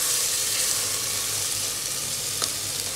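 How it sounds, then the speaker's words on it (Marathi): Masala fries in a pan with a loud, continuous hiss and sizzle, close up and bright, with a brief stirring clatter partway through and no talking. "परत एकदा मसाला छान फ्राय करायचा"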